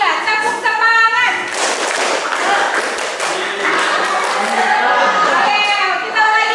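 A class of children doing a rhythmic tepuk semangat clapping routine, loud patterned claps and slaps mixed with young voices chanting along.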